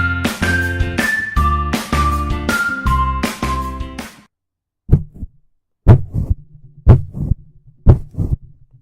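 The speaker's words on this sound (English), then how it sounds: "That was the sound of me thumping my head against my microphone." A short musical phrase gives way to a series of heavy, close thumps of a head against a microphone, irregular and boomy, about six hits.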